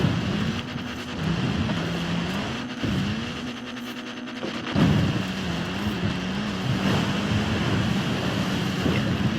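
A rally car engine drones while off-roading through a river in Forza Horizon 4, revving up and down with rushing water-like noise and rumbling bumps, loud and continuous with no voices.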